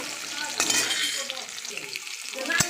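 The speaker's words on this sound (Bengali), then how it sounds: "দেখো সজনা ডাঁটা ভাজি আমি, এটা একটু হালকা করে ভেজে নেব" Moringa drumstick stems sizzle steadily as they fry in a pan, with a few stirring scrapes and a sharp utensil knock near the end; no one speaks.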